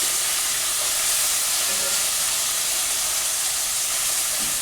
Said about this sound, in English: While the meat's browning